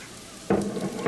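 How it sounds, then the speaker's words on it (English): Two cups of hash browns dropped into a hot Ninja Foodi Possible Cooker Pro pot for an egg frittata, a sudden loud sizzle bursting in halfway through and continuing as frying. "Now we get to add our 2 cups of hash browns to the"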